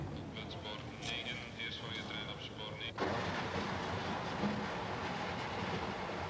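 A train bound for Spain rolls along its rails with a steady rumbling clatter that turns louder and broader partway through, as people talk over it.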